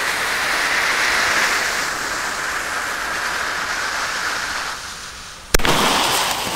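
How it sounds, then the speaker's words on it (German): An XL 8-shot Roman candle fires outdoors with a sustained loud crackling hiss and whoosh, then one sharp bang near the end before the hiss resumes. "Das sind die Römischen Lichter XL in 8 Schuss."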